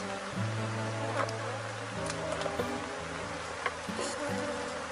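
Honeybees at a hive drone in a soft, steady hum. Brief sharper buzzes from individual bees flying past break through now and then.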